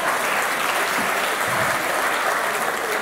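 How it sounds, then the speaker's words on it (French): Steady, dense applause from a conference audience welcoming a minister at a national industry day event, filling the whole stretch at an even level with no pauses. "sous vos applaudissements"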